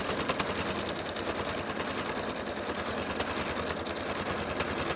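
A sewing machine stitches a mat at a fast, steady whir, loud and close, with a dense chatter of needle strokes and no pauses.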